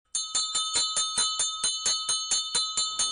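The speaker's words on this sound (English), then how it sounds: "I rang the bell of hope for finishing chemo." A bell of hope rung in a cancer treatment setting to mark the end of chemotherapy: about fourteen quick, evenly spaced bright metallic strikes, close and loud, each ringing briefly into the next, with no voices.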